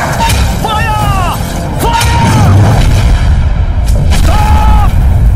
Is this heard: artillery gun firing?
yes